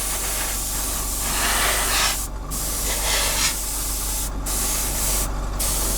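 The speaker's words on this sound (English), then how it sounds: "So putting that quick misty coat on gives your following coats of paint something" An airbrush or spray can lays a light misty coat of paint onto a plastic model kit of a 1/48 scale Airfix Messerschmitt Bf 109, a steady close hiss broken by three short pauses.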